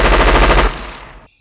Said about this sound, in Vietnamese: Chàng bưng cây trung liên lại trước két sắt và bắn số xạ.